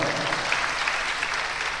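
A church congregation claps together in a brief, even burst of applause, loud and sustained with no voices standing out.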